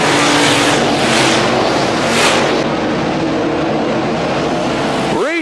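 Stock cars racing at Crawford County Speedway, a loud continuous engine roar from several cars at full throttle with passing swells, and a car sweeping by close near the end.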